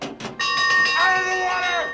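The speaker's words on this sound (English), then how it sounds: "So Brody decides to ring the doomsday bell" A loud alarm bell rings out from a shark-watch tower at a crowded beach in a film, a couple of sharp strikes followed by a sustained, ringing metallic tone that slowly decays.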